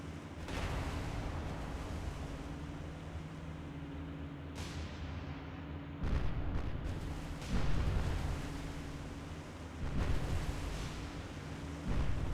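Heavy naval guns firing in the video game War on the Sea: deep booming blasts rumble over a steady low engine drone, with several distinct loud reports spaced a few seconds apart.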